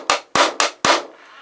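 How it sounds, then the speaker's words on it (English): Four sharp, evenly spaced hammer taps ring out close by during assembly of a Kadet LT 40 trainer model airplane, each strike decaying quickly. "I'm going to take my hammer,"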